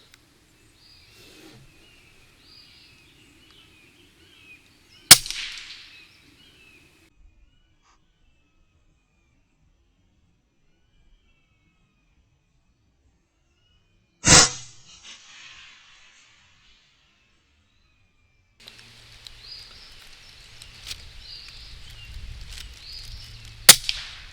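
Rifle shots are fired at eggs: two sharp, loud cracks about nine seconds apart with short tails over near silence, then a rougher stretch of rustling and handling noise with a few more clicks.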